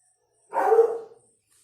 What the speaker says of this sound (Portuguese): Os cachorros.